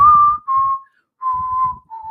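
A person whistles a short tune in four clear sustained notes, loud and close, each phrase separated by brief pauses, with faint low rumble underneath.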